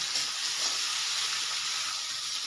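Steady, loud sizzling of carrots and beans frying in a hot pan, a continuous hiss with no talking.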